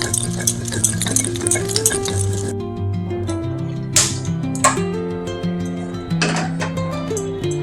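Hilsa fish pieces being mixed by hand with salt, turmeric and chili, with soft squishing and stirring sounds and occasional clinks, under steady background music.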